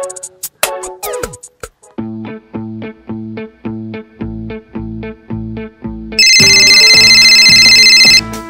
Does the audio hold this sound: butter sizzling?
no